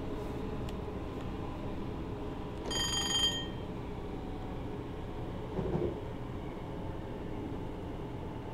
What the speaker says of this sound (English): I'm just using some light braking here to ensure that we are going slow enough as we enter the platform